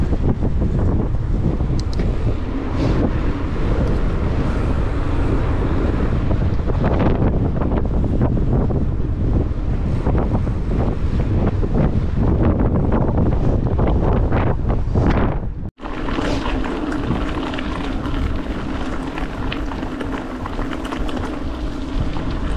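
A strong headwind roars across the microphone during a group road cycling ride, a loud, continuous buffeting rush that briefly cuts out before resuming.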